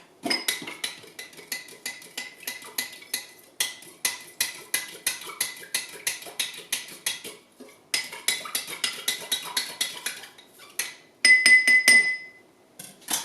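A knife stirs sodium carbonate solution in a glass, clinking against the sides in quick, regular taps with short pauses, ending in a brighter ringing clink.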